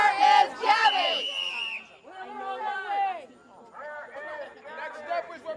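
Protesters yell and chant in overlapping bursts, a loud shout first and then rhythmic group calling, with excited chatter mixed through the crowd noise.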